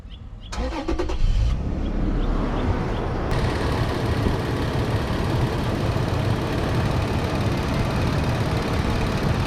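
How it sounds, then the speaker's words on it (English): A Toyota 4Runner engine cranks briefly and catches, then settles into a steady, fairly loud idle with a broad rumble, close by and without talk. "Now let's start the car"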